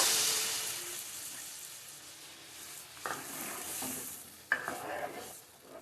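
Blended tomato gravy poured into hot tempering sizzles and crackles close up, with a few sharp stirring clanks partway through and the hiss settling into a steady bubble.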